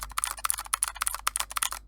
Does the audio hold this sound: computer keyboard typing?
yes